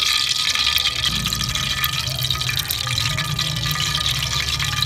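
Ghee poured into a pot of whole spices while cooking Lahori chana, a steady, close liquid pour with a low background rumble running unbroken for about five seconds, no voices.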